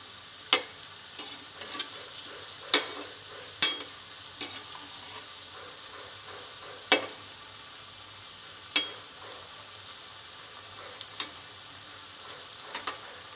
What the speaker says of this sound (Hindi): आप किसी भी ऑयल का यूज़ कर सकते हो इसको फ्राई करने के लिए।